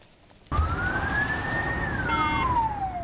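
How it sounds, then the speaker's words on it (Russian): An ambulance siren starts abruptly and wails in a long rising then falling sweep, loud and close over steady traffic rumble. "Вой сирены, ярко-желтый микроавтобус."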